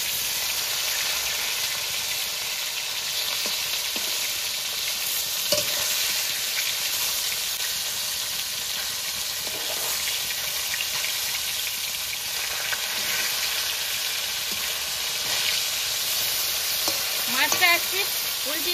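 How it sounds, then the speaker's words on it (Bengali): Small chara pona fish fry in a pan with a steady, dense sizzle that holds throughout, broken now and then by faint clinks and stirring sounds. "মাছটা এক পিঠ উল্টিয়ে নিয়েছি, মাছটা আর এক পিঠ ভাজা হতে থাকবে"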